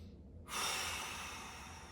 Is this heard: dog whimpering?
no